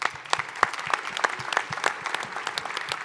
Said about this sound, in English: we'll give them all a round of applause